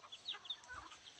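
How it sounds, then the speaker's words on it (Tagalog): Chickens cluck softly and intermittently in a rural provincial yard, faint and somewhat distant, with short scattered calls and no talking. "daming manok"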